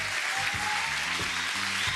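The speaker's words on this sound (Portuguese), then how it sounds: "eu gostaria que vocês pudessem dar uma salva de palmas pela presença de todos" Steady audience applause for guests at a football club, continuous dense clapping at moderate level, with low rhythmic music or murmur underneath.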